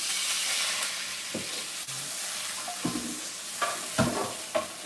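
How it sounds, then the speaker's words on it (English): Fish frying in a pan, a steady close sizzle with a few louder scraping stirs and utensil knocks over it, no talk. "it's cooked super fast, so it don't take long to cook fish."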